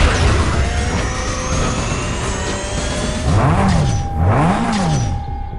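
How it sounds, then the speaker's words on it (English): Racing car engine in Need for Speed: Most Wanted during a sprint race, a steady loud drone with two rising-and-falling revving sweeps near the end. "Man, this car is ready to go."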